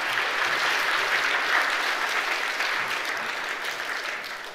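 A church congregation claps together during a Korean worship service, a dense, steady wash of applause at close range that holds for several seconds and eases slightly toward the end.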